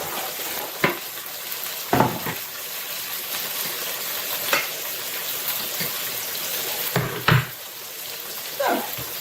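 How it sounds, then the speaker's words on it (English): Bacon and mushrooms frying in a pan, a continuous close sizzle punctuated by a few scrapes and clinks of a utensil stirring against the pan. "keep our bacon and mushrooms going for about a few more minutes"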